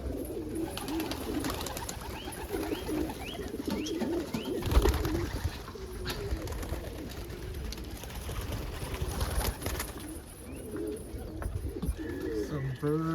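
Pigeons coo repeatedly in a loft with birds sitting on eggs and young nearby, soft throaty calls overlapping at close range amid rustling and shuffling, while someone talks intermittently.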